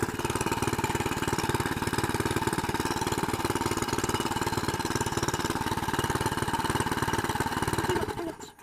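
Engine-driven water pump running steadily beside a pond, lifting water out of a hole dug in the pond bed; a loud, continuous close-up mechanical drone that cuts off abruptly at the very end.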